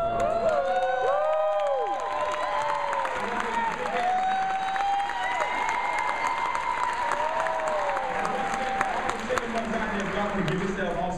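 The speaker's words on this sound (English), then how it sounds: "Give yourself also a big hand clap." A crowd claps and cheers steadily throughout at a Las Vegas event with children present, with voices calling and shouting over the sustained applause.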